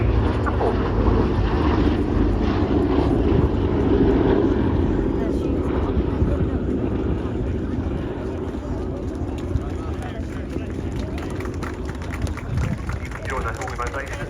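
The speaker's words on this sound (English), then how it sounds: "We see the bomb doors on the B-17 open on this pass, and also smoke on to simulate a damaged engine" A Boeing B-17 bomber passes low at an airshow, its piston engines giving a loud, sustained droning roar that slowly fades as it moves away.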